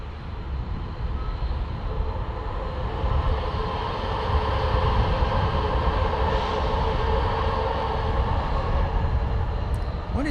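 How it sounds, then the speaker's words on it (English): Southwest Airlines jet taking off at San Diego airport, a steady broadband engine roar that swells slightly over ten seconds, heard from a distance with no talking. "Southwest Airlines taking off here."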